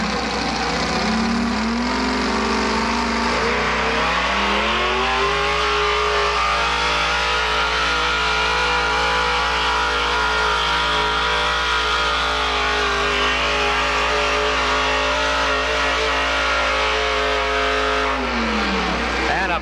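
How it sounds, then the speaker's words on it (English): A 440 Dodge four-wheel-drive modified truck roars through a pull at a truck and tractor pulling event, its engine loud and sustained as the revs climb steadily and hold, then drop off near the end. "The 440 Dodge of Donnie McKay, the Beast of Burton, second truck to pull in the four-wheel drive other modified class"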